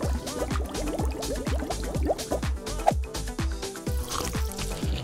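Tea trickles and drips from a novelty tea infuser into a cup, a close, steady patter of droplets with bright little splashes and no talking.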